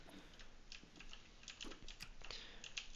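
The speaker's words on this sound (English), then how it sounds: "do know how loud the keyboard is" A loud computer keyboard clatters with quick, irregular keystrokes close to the microphone, a steady run of sharp clicks at fairly low overall volume, with no voices.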